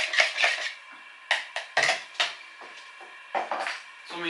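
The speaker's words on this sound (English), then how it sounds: "I'm gonna break the eggs into 4." Eggs are cracked for an omelette against a hard kitchen surface, giving a series of sharp taps and brief shell crunches in irregular clusters, close and fairly quiet, with no talking.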